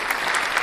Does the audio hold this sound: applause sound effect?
yes